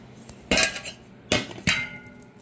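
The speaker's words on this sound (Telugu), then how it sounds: "ఇది తీద్దాం మూత తీద్దాం" A metal lid clanks against a pot in three sharp, ringing knocks, close and fairly loud with quiet gaps between.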